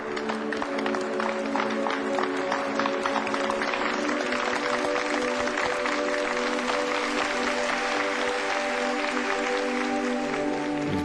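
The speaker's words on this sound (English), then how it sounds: "Let's give them a round of applause." A crowd gives sustained, dense applause for soldiers returning from a combat zone. The clapping is steady and loud for about eleven seconds, with a faint tonal backdrop underneath.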